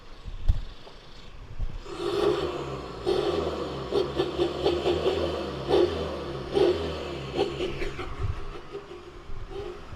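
A Volkswagen Golf 7 1.6 diesel with a remote-controlled valved exhaust revs repeatedly in short bursts over a steady idle, a deep throaty exhaust note rising and falling nearby.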